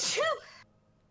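A single sharp human sneeze bursts out close and loud, then trails off into quiet room tone.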